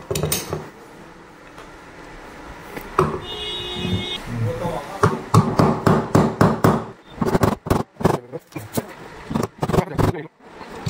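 Pins being knocked lightly into a Ford EcoSport ESL steering lock module in a garage: a close, sharp run of a dozen or more metallic taps in uneven bursts, following a stretch of workshop noise and a voice.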